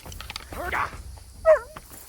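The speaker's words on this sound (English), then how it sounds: "don't you dare hit my dog" A dog in the medieval game Kingdom Come Deliverance 2 gives two short whimpering yelps about a second apart, close and moderately loud over a quiet background.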